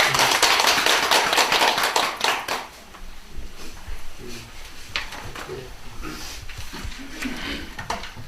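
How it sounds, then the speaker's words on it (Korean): Dense applause from an audience at a Buddhist college lecture, loud at first, then fading after a couple of seconds into scattered claps and room noise. "박수 한번 해주세요."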